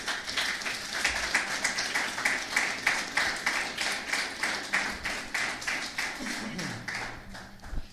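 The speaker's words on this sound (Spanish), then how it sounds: "Dale un aplauso al Señor." A church congregation claps in rhythm, with sharp, evenly spaced strikes sounding close and loud over a low sustained hum, ending in a brief, slightly tonal sweep near the end.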